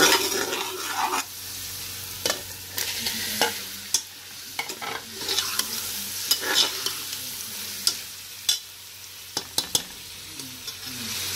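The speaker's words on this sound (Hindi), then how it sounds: "अब अनियन लाइट फ्राई हो गए, हमने इसके अंदर जिंजर और गार्लिक क्रश करके डाल दिए। 1 मिनट फ्राई करने के बाद इसके अंदर हम टमाटोज डाल देंगे।" Onion with crushed ginger and garlic frying in a pan for minced meat and bitter gourd, a continuous sizzle broken by repeated scraping and clacking stirs at irregular intervals, close and fairly loud, no talking.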